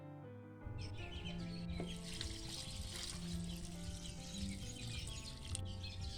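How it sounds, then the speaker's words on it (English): Water is poured into a homemade pesticide mixture with a steady rushing splash that starts abruptly and runs on over a quiet, tonal background. "we add water until the mixture now submerges underwater."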